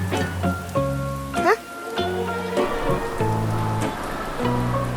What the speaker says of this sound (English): A sudden rain makes Peppa grab her colorful umbrella.